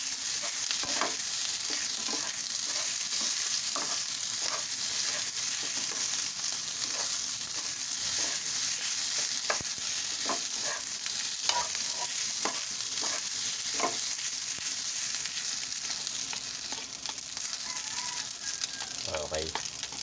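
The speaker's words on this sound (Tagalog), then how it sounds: "Haluin na natin" Food frying in a pan while being stirred, a continuous bright sizzle broken by repeated scraping strokes of the utensil, close and fairly even, with no talk.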